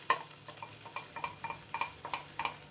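Vegetables fry quietly in a pan for white sauce pasta, a soft sizzle broken by light scraping and tapping of a utensil stirring them, faint and without speech.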